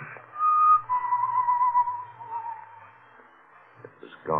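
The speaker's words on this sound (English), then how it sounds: "The whistling was somewhere in the building." A lone whistled tune drifts through a building in an old, narrow-band radio drama recording, a thin sustained melody that fades out, followed by a brief rustle.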